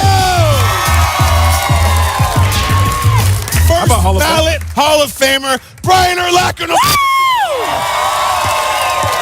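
A lively studio crowd at a morning football TV show during Super Bowl week cheers, yells and whoops loudly over an announcer's booming introduction, with the shouts rising and falling in bursts.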